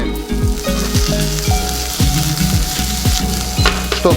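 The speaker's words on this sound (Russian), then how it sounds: "Все это вместе обжариваем" Strips of boiled beef frying with golden onions in a pan, giving a loud, steady sizzle throughout. Faint clinks of stirring sound now and then, with no talking.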